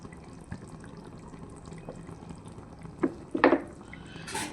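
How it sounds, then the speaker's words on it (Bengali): Mustard oil poured into a simmering fish curry makes a faint liquid splash and brief sizzle near the middle, set against quiet kitchen clatter. "একটু সরষের তেল দেবো।"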